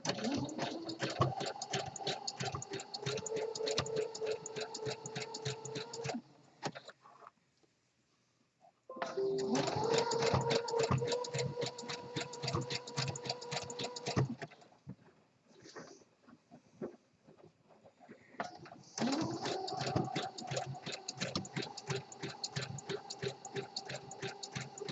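A home sewing machine stitches an elastic waistband onto boxer briefs in long steady runs of rapid mechanical whirring and needle clatter, pausing twice; fairly faint and close, with no talking.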